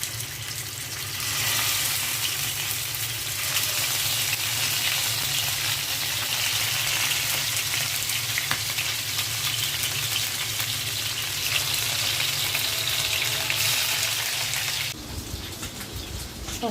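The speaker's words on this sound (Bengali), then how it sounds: "ইলিশ মাছ তেলের মধ্যে ছেড়ে দিচ্ছি" Hilsa fish fries in mustard oil in a pan, a loud continuous sizzling hiss that holds steady for most of its length before easing off near the end.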